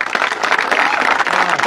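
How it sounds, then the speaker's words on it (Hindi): Loud, busy applause from a crowd welcoming guests at a Haryana gurukul, many hands clapping in a dense, uneven patter for a brief stretch. "तालियां बजाओ भाई बहन के लिए।"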